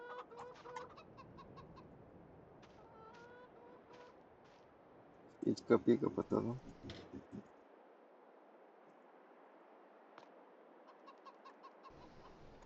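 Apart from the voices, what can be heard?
chickens clucking in Farming Simulator 22 video game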